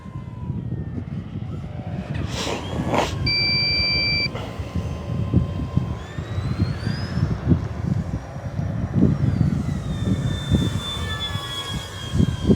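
An Arrows Bigfoot RC model airplane with a 1.3 m wingspan flies on a windy day, its electric motor buzzing and whining as it shifts in pitch, passing near and away over steady wind noise, with no speech.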